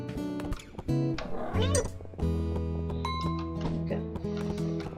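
Cats meow in the video game Cat Herder, a few sweeping cries rising near the middle over steady, loud background game music, with no talk.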